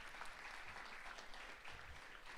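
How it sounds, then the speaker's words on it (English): An audience at a leadership summit claps steadily throughout, a dense, continuous wash of applause at even loudness with no break. "give it a round of applause"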